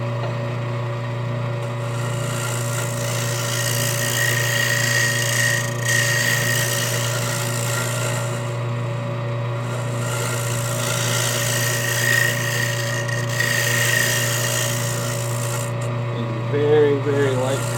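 A power tool roughs out the inside of an aspen wood bowl, giving a steady close motor hum under a continuous dry scraping rasp of wood that rises and eases slightly over several passes.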